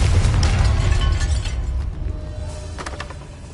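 A Confringo blasting spell from Hogwarts Legacy erupts in a loud, rumbling explosion that starts at full force and slowly fades over a few seconds, with crackling debris scattered throughout.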